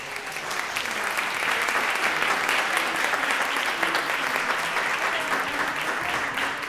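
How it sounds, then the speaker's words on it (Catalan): Sustained audience applause fills a choir concert with a children's choir, steady dense clapping from a crowd that rises quickly and holds at full volume throughout, with no voices on top. "Un fort aplaudiment per ells."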